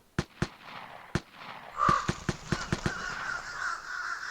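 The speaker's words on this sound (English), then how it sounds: "And crows go off once again." Several crows caw outdoors in loud, sharp bursts, a few spaced calls at first and then a rapid cluster of repeated caws over a steady rustling background.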